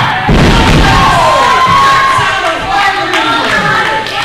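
Loud arena crowd at a pro wrestling match roaring and cheering continuously, with shouts rising above the din and a few thuds from the ring.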